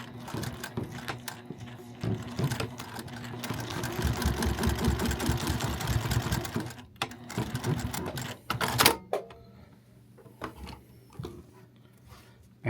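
A Juki TL 2000 Qi sewing machine stitches through thick fabric in a rapid, steady mechanical chatter that runs for several seconds, pauses, then resumes briefly, close and fairly loud.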